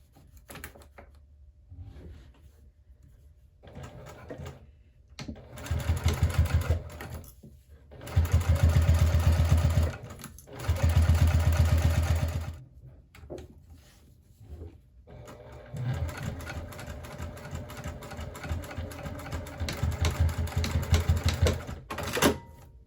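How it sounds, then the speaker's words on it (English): A sewing machine runs in several bursts while stitching a fabric crossbody bag strap, with rapid rhythmic needle clatter between pauses and a person talking quietly at times. "So now we have our strap all sewed up."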